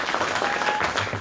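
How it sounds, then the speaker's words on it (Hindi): Applause from an audience at a cricket club award ceremony where players and sponsors receive trophies, steady dense clapping for a brief moment, fairly close. "खिलाड़ियों ने तालियों की गूंज में अवार्ड वसूल किए।"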